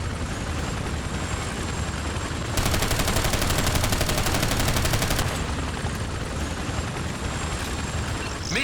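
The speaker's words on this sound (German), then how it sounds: "Dem VIP nähert sich ein feindlicher Hubschrauber." Enemy helicopter approaching in the video game Ghost Recon Advanced Warfighter 2: constant loud rotor and battle din, with a burst of rapid gunfire in the middle of the clip.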